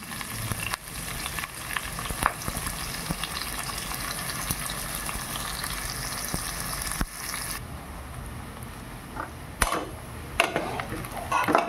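Sliced onions frying and browning in a pan for chicken curry, a steady, moderately loud sizzle with occasional clinks of a utensil against the pan.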